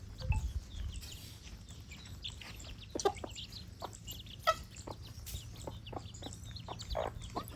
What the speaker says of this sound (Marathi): एक कोंबडीचं पिल्लू पकडून आण ना